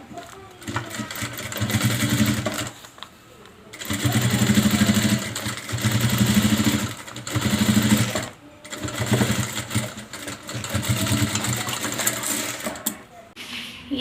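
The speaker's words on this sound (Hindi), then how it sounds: "एक लास्ट सिलाई हम इस पाइपिंग के ऊपर लगा देंगे" A sewing machine runs in bursts, stitching piping onto a fabric makeup box, its motor whirring in several separate runs with short pauses between them.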